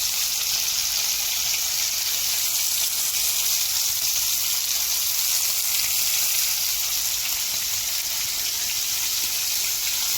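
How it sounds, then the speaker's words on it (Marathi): Shrimp fry in a pan with a loud, continuous hiss of hot oil that stays even and unbroken throughout, and no one speaks. "अशा प्रकारे आपली कोलंबी फ्राय होत आहे."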